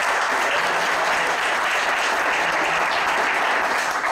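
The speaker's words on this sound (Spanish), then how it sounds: "un aplauso para Jonathan" Sustained audience applause at a karate event in honor of an athlete, a dense, steady wash of many hands clapping at even loudness throughout without a break.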